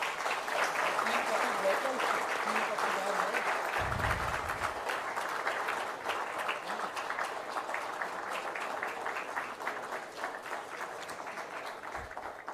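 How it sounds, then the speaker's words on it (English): A conference audience at a pulmonary health event gives a sustained round of applause, dense clapping that holds steady throughout and fades slightly at the end, with a brief low voice underneath. "Huge round of applause, please."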